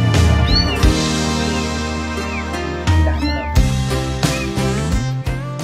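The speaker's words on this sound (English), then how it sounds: "The kitten is constantly crying for help." A kitten stuck in a draining pipe meows repeatedly in short high-pitched cries, heard over a busy background with steady music-like tones.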